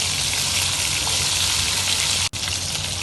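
Ginger garlic paste frying in a pan until golden, a loud, steady, close sizzle with a very brief break near the end.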